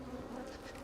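Honey bees buzzing near their hive, a steady close drone heard alone for under a second.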